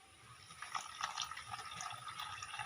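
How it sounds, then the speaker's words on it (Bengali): Water is poured onto semolina to make pitha batter, a faint, brief trickle and splash of liquid heard up close for a couple of seconds. "সুজিতে দিয়ে দেব জল।"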